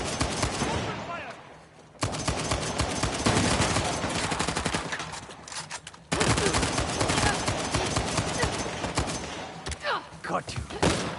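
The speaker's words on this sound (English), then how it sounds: "Open fire!" Gunfire in the Uncharted: The Lost Legacy video game, rapid automatic bursts and fusillades filling long stretches, loud and close, broken by brief pauses.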